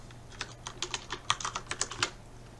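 Quick run of light keystrokes on a computer keyboard, about a dozen crisp taps in an uneven rhythm, close and fairly quiet with no voices.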